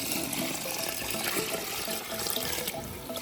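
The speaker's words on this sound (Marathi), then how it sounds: "तर आता ह्याच्यामध्ये पाणी टाकून घ्यायचे" Water is poured steadily into a container holding 5 kg of old wheat grains being soaked for kurdai, a close, continuous splashing gush lasting the whole stretch without pause.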